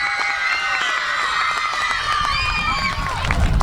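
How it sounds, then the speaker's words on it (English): An outdoor crowd at a municipal Public Works Day event cheers and applauds, with whoops and shouts rising over a steady wash of clapping that swells slightly near the end. "Now can I get a DiChiaro round of applause for the people sitting behind me?"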